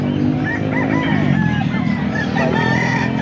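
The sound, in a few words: rooster crowing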